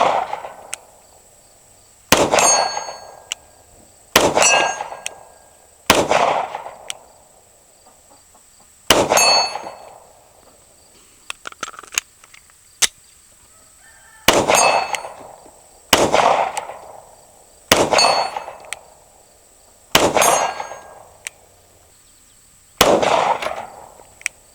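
Pistol shots at a steel target 50 yards away, sharp single reports spaced a second or two apart, each followed by a faint metallic ring, about ten shots with quiet gaps between them.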